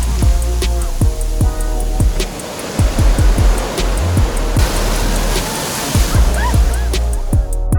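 Surf washing onto Cleopatra Beach in Alanya, Turkey, a steady broad rush of breaking waves filling the whole stretch, with repeated low thumps and faint voices in the background.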